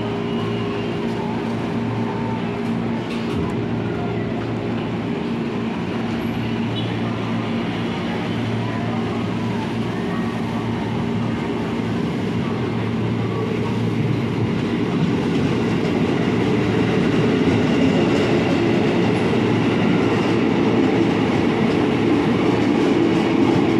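Commuter train pulling out of Tanah Abang station during the busy evening rush, a steady loud rumble of rail cars and wheels building slightly as it departs, with platform noise underneath.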